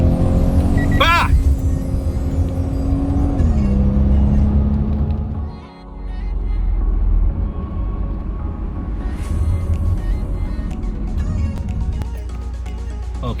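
A Lexus GS300 fitted with a 3-inch cat-back exhaust pulls away from a stop, its engine tone climbing through gears with a brief dip in the middle, a loud, close rumble throughout.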